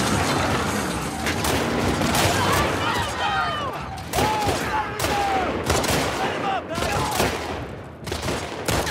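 Gunfire from The Last of Us Part II rings out as a series of sharp shots and bursts spread across the scene, loud and repeated, with faint voices and background game sounds between them.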